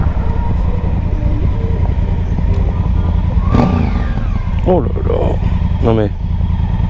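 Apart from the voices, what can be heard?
Honda Africa Twin motorcycle engine with stock exhaust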